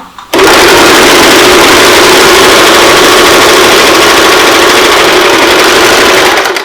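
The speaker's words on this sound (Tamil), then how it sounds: "இப்போ 1ல வந்து நான் ஃபுல் ஸ்பீடு கொடுக்குறேன். இது எப்படி ஸ்டிச் பண்ணதுன்னு பார்க்கலாம்." An Usha Janome Stitch Magic sewing machine stitches at full speed, starting abruptly into a loud, steady, fast mechanical whir that holds evenly for several seconds, very close and with no talking.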